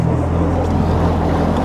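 A self-built motorboat on its maiden run, with its outboard engine trimmed fully down, drones in a steady, loud, unbroken roar across the water, with wind-like rush over it.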